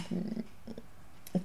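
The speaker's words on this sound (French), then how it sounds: "c'est mon chat qui joue" A pet cat plays and purrs close by, a low rumbling purr in short bursts with a soft rustle near the end, quiet and alone.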